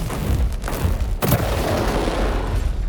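Mech weapons firing in the War Robots Frontiers video game, a continuous loud barrage of booming, rumbling gunfire and explosions with one sharp blast about a third of the way in.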